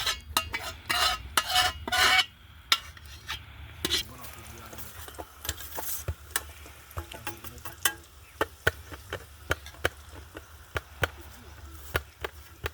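A second batch is roasted and stirred in a small pot for a green turmeric curry cooked outdoors in a farm field. Rhythmic scrapes and taps are loud and busy at first, then thinner and evenly spaced.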